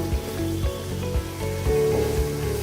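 Spice paste for beef rezala sautéing in oil, a low steady sizzle with soft rhythmic thuds of a spoon stirring and scraping the pan roughly every half second, close and moderately loud.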